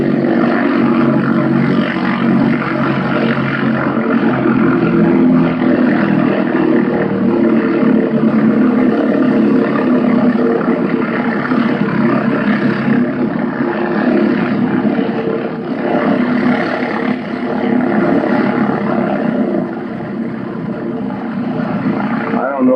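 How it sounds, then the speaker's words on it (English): Propeller airplane taxiing at Kent State Airport, a loud, steady engine drone and propeller roar filling the whole stretch, with muffled speech faintly beneath it. "one of these planes is mine that's taxiing in"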